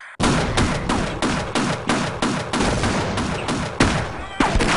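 Rapid loud gunfire in the video game Half-Life, shotgun blasts fired in quick succession, about a dozen sharp booming reports in a steady rhythm with barely a pause between them.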